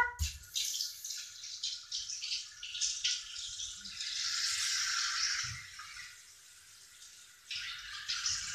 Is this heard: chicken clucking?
no